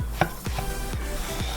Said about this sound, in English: We're gonna cut our potato in half.